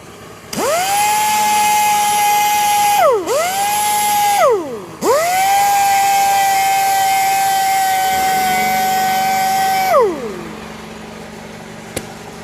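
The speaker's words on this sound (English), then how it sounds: "We'll go ahead and get those 320 grit sander marks out with an 800 grit disc." An electric sander with an 800 grit disc smooths curb rash on a Kia K4 alloy wheel, a loud high whine that ramps up and dips as it is pressed and lifted, then runs steadily before spinning down.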